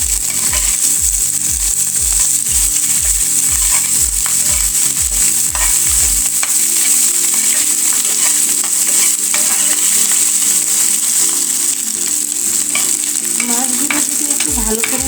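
Small chanda fish fry in a pan with turmeric, a loud constant sizzle broken by rhythmic scraping stirs at first, then steady frying alone without speech.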